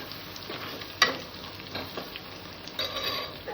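A spoon stirs oil and spices sizzling in a frying pan while making a home-style chicken curry. The frying hisses steadily under a few sharp scrapes and clinks against the pan.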